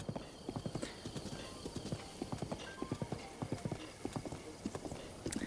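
Horse hooves in the video game Zelda Breath of the Wild, a steady rapid clip-clop of galloping in an even rhythm, close and clear over a low game background hum, with a brief whinny-like tone.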